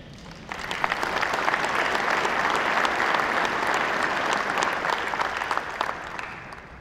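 A conference audience at a general session applauds a speaker coming to the stage: dense, steady clapping that swells quickly and holds evenly for several seconds, with no voices over it.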